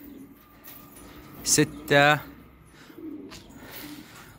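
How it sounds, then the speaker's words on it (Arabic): Pigeons coo and call in a flock kept for flying, with two loud close bird calls near the middle over quiet background, while someone talks at low level. "الحمام طايرة دقيقة، لسه قاعدة بتجمع في حالها"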